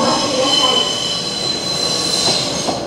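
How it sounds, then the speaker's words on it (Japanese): A JR 719 series train on the Ban'etsu West Line rapid service to Koriyama pulls into Aizu-Wakamatsu station with a loud, steady rumble and high wheel squeal that fill the whole stretch. "まもなく5番線に列車が入ります。"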